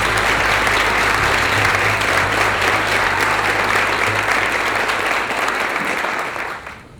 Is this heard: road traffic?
no